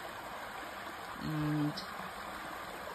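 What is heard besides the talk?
creek water flowing under a bridge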